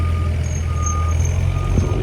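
A digger in a street sounds repeated steady reversing beeps over a low engine rumble, near and clear, with no talking.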